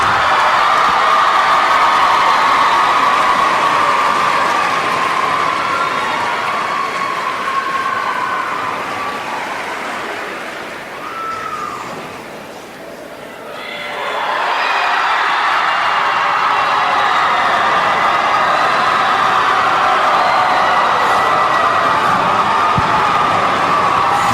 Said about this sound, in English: let's have one final round of applause for both LaSalle Academy and Mount St. Charles